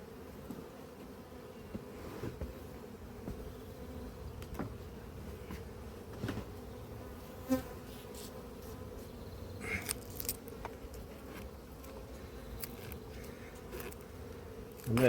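Honeybees buzz around wet supers at an apiary, a steady low hum running throughout with scattered close passes and faint clicks of frames being handled.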